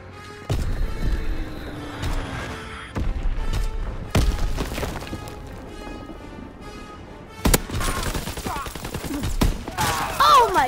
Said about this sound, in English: Dropping Fritz X bomb.